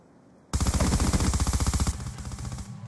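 An LMG light machine gun firing in the shooter Black Ops 2, a loud close rapid-fire burst of evenly spaced shots for about a second and a half, then fading echo and ambient battle sound.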